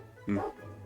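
A dog gives a single short, muffled bark in a room, fairly faint, over a low background hum.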